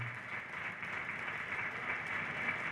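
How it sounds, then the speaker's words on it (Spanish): Audience at a 50th anniversary celebration of the Caballeros San Jorge de Alfama during the Caravaca festivities applauding, a faint, distant and steady wash of clapping with no voices over it. "pensad que en aquellos tiempos se merece un aplauso, Benjamín."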